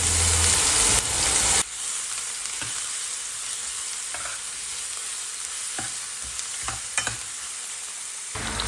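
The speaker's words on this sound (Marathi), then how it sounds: "तेल गरम झालेलं आहे त्यामध्ये आपण जिरं टाकणार आहे आणि जिरे छान तळतळल्यानंतर आपल्याला कांदा टाकायचा आहे" Cumin seeds and onion frying in hot oil, a loud steady sizzle that drops back after a couple of seconds to a softer continuous crackle, with occasional stirring clinks and scrapes close by.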